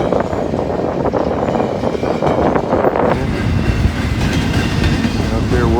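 Long freight train of empty cars rolling past on a windy day, wheels clattering steadily with loud, continuous rumble and wind buffeting the microphone.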